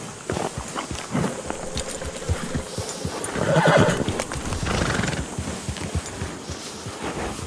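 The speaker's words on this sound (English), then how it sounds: "So much easier to just ride the horse than lead her around." A horse walks along in the video game Red Dead Redemption 2, its hooves clip-clopping steadily up close, with a whinny rising briefly midway against a soft background ambience.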